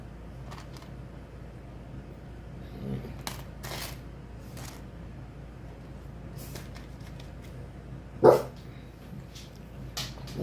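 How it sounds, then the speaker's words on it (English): A few sharp dog barks scattered across the clip, one louder and closer than the rest, over quiet background shuffling. "What you barking at, Bubs?"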